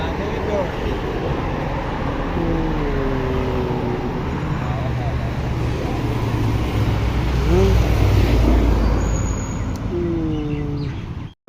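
Road traffic passes near Zaman Park in Lahore, a steady roar of cars and motorcycles with engines swelling and fading close by, while people talk over it.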